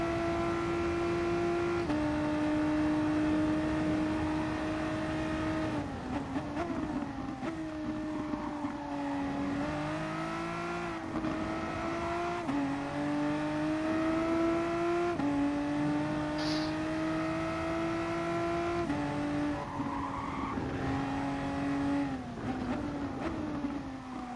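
A VW race car laps Dragon Trail Seaside in a racing video game, its engine droning and rising and falling in pitch through repeated gear changes and corners, loud and continuous with no talk.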